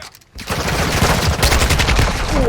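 Rapid bursts of AK rifle fire in Call of Duty Modern Warfare II ring out loud and continuous, dense gunfire crackling over a short stretch.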